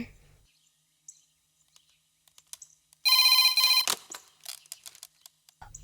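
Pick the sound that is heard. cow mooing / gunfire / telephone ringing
telephone ringing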